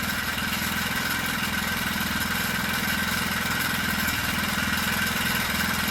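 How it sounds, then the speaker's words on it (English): Cold four-stroke motorcycle engine idling steadily while warming up in freezing weather, a close, even mechanical drone with no revving. "And the old 4-stroke is fired right up."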